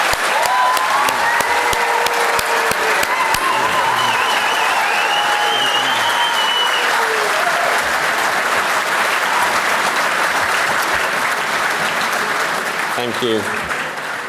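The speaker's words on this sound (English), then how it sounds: "should we give one massive final round of applause to all our graduates" Graduation ceremony audience applauding the graduates, a loud, sustained round of clapping from a large crowd that holds steady throughout, with a brief spoken thanks partway through.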